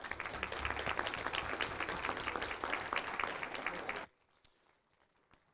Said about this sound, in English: let's give them another huge round of applause